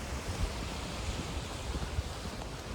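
Ocean waves roll in, a continuous broad rush of surf with gentle swells and some wind buffeting, heard alone without talk.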